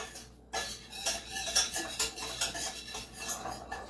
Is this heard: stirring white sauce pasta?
yes